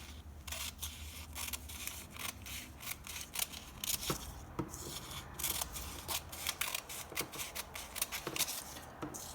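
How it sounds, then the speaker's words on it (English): Scissors snip through paper in a rapid series of crisp, quiet cuts, close by with faint room noise and no talking. "I'm just gonna cut my paper down"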